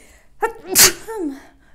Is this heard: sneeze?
yes